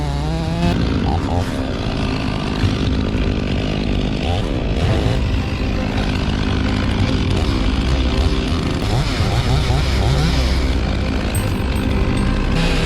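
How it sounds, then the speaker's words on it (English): A chainsaw cuts through logs in a forest, its engine roaring loud and steady at close range. It runs without a break, with small shifts in pitch as the blade bites into the wood. "With every pull of the trigger, the chainsaw roars to life"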